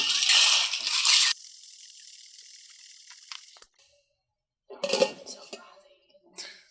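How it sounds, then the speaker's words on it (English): Ice rattles hard inside a cocktail shaker for a milk tea drink, a dense loud burst of clattering at the start, then quieter clinks and a final few sharp rattles after a brief pause. "And now I'm going to add ice and shake the crap out of it"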